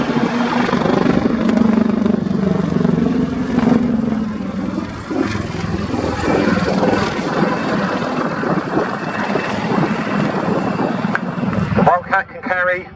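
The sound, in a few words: Wildcat helicopter flying at an air display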